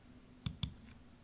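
Two crisp computer mouse clicks in quick succession, close and fairly quiet, with no talking.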